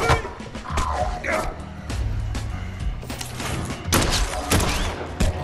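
Gunfire in Dead Island 2 on PlayStation 5: loud volleys of shots fired in quick bursts, with heavy thuds mixed in and brief pauses between bursts.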